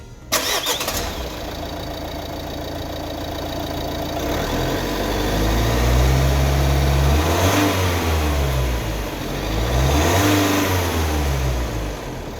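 A Mercedes/Renault K-Type 1.6 dCi diesel engine cranks and catches, revs up briefly, then settles into a steady idle with a couple of gentle throttle swells, loud and close with no talk.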